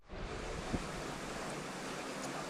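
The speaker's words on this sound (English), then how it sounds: "I'm going to start the aerating hardware in the tanks." Aerating hardware bubbling water in rubber-lined sump tanks, a dense steady hiss of churning water, loud and continuous with one brief knock near the start.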